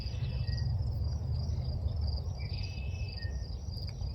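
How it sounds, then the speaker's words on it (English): Crickets chirping outdoors in a rural garden setting, a steady close pulsing trill over a low background rumble, with no voices. "You listen to the sounds of the birds, the crickets, nature around you."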